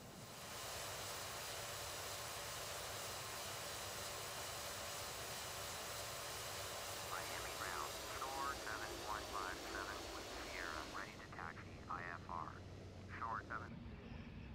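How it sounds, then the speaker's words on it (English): Boeing 737 thrust reversers engaging in a flight simulator game, a steady loud jet-engine roar with broad whooshing noise, later joined by sharp fluttering chirps before the roar drops away at the end. "Let's see if I can engage the thrust reversers."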